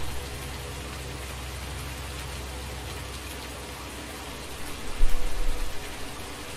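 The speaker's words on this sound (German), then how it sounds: "So viel Regen draußen." Steady rain in the farming game Landwirtschafts-Simulator 19, a dense even hiss of falling rain with a brief louder swell near the end, no speech.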